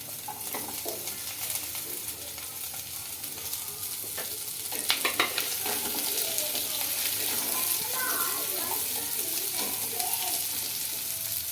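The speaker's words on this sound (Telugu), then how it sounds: "చిన్నగా కట్ చేసి పెట్టుకున్న అల్లం ముక్కలు వేసుకోవాలి అలాగే ఆనియన్స్ అయితే వేసుకోవాలి" Chopped ginger and onions frying and being stirred in a pan for a hotel-style chicken gravy, a steady soft sizzle with occasional scraping and clinks, some faint talk in the background.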